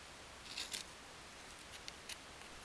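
Quiet snips of scissors cutting through the ends of a yarn tassel, a couple of short crisp cuts close by.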